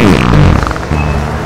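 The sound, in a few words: fart sound effect in a read-aloud story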